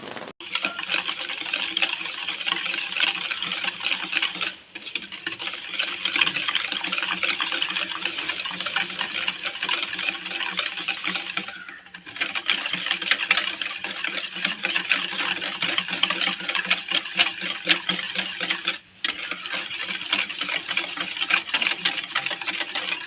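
Milk is stirred into an aval (beaten rice) pudding mixture, making a continuous soft swishing and scraping in a bowl with a few brief pauses, fairly quiet and close.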